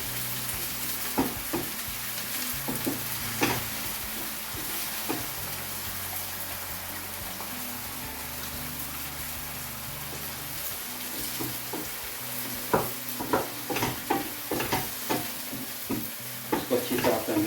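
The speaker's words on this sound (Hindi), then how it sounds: "अच्छी तरह से मिक्स कर लेंगे हम अनियन के साथ।" Tomato paste, about 300 grams, being stirred into onions in a frying pan for fish keema, a steady sizzle under repeated scraping spoon strokes that sharpen into clustered clacks near the end, close and alone.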